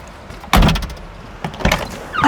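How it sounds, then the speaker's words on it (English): A car door handle is pulled and the door opens as someone climbs in, giving a sharp clunk, a second louder clunk a moment later and a soft rustle at the end, all close up. "a close-up of just this handle in the door opening and me getting in"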